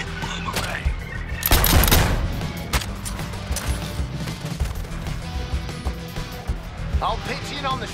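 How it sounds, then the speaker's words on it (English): Gunfire in the Suicide Squad: Kill the Justice League video game, with bursts of shots and a heavy crash peaking early, mixed with other game effects and voices talking. "I'll pitch in on the shooting with you"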